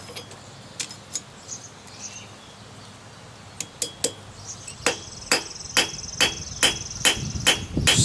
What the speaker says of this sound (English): Change out to my favorite riveting hammer